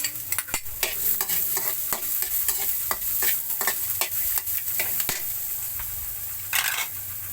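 Garlic and onion fry in a pan for a chicken dish, a steady sizzle broken by repeated scraping stirs of the spatula, close and fairly loud throughout.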